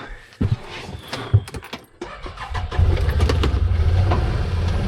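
A car drives out toward a shooting target at a rifle range, a steady mid-pitched engine hum that grows louder partway through, with a few knocks and rattles inside the vehicle early on.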